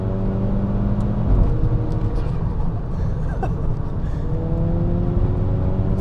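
Turbocharged VR6 engine in a Mk5 VW GTI making about 350 horsepower, pulling hard through corners as heard from inside the car, with a loud steady drone that rises and falls in pitch, plus tire and road noise.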